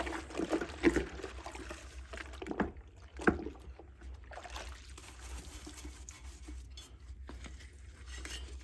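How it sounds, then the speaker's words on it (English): A 1973 Yamaha CT3 175 engine cylinder being washed in a bucket of warm soapy water: quiet sloshing, splashing and trickling with occasional clunks of metal against the bucket, irregular and close. "got my bucket of warm soapy water, and I'm just going to give this a good bath"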